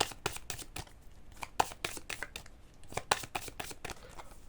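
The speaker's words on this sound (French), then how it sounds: "on mélange les cartes" Oracle prediction cards being shuffled by hand, a quick run of crisp papery riffles and slaps, close and fairly quiet, with no talking.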